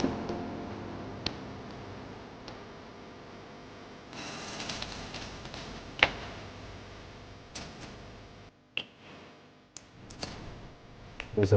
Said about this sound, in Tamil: ஆயில் சூடான உடனே வரமிளகா போடுறோம். கடுகு உளுத்தம் பருப்பு போடுறோம்.